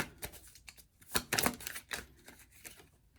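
Tarot cards are riffled and shuffled up close, a quick flurry of papery flicks and slaps in uneven bursts, with no talking.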